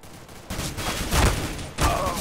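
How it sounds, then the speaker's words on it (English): Gunfire in a casual deathmatch of Counter-Strike: Global Offensive, a few muffled bursts of shots amid busy game noise, moderately loud with no talking. "I was shooting between his legs"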